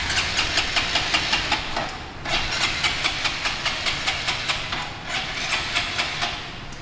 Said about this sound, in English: trying to get first startup going